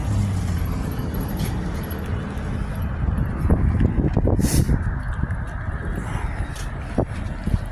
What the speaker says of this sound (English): There goes a couple of cars up that way.